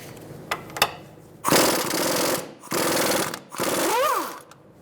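Air impact wrench hammering loose 22mm caliper bracket bolts on a 2007-2012 Nissan Altima during a front brake job: three loud, rattling bursts of about a second each, close by, the last one winding down, with no talking.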